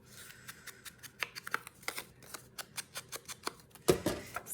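Craft scissors snip through paper for a junk journal, a close run of quick, evenly spaced crisp cuts, ending with a louder scrape or rustle.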